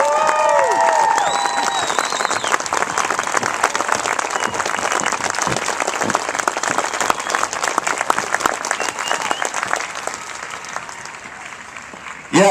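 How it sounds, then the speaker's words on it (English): Crowd applause at an Air Force parade and enlistment ceremony, sustained loud clapping with some cheers and whistles, continuing steadily for several seconds. "Let's give them all one more round of applause,"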